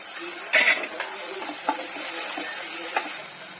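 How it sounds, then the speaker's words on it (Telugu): Onions and tomatoes frying in a pan for upma, with a steady soft sizzle and several scraping stirs of a spoon against the pan, a couple of louder clinks near the start. "సాల్ట్ పక్కన ఆనియన్స్ వేగాలి ఆనియన్స్ వేగాక టమాటో వేసుకోవాలి"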